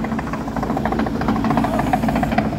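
A tractor engine runs steadily and loudly up close, with a rough, knocking idle pulse and a vibrating mechanical drone throughout, no voices over it.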